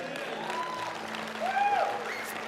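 A congregation applauds during a sermon on end-times prophecy. The clapping is a soft, diffuse patter, fairly distant, and swells slightly midway.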